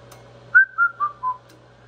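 A man whistles into the microphone of a radio set driving a Heathkit SB200 tube linear amplifier. Four short descending whistled notes sound close and clear over a low steady hum.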